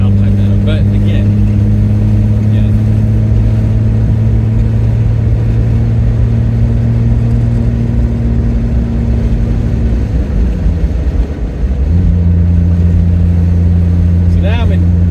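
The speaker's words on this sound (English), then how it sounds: "so now I'm in fourth gear at like 1700 RPM." A Triumph GT6 engine runs in fourth gear at about 1700 RPM on a mountain pass road, a steady loud drone with a pitch shift partway through, then settling back into an even hum.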